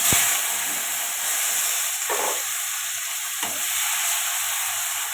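Bay leaf, panch phoron and onion sizzle in hot oil, a loud continuous hiss broken by a few sharp spoon scrapes and stirring knocks, with no talking.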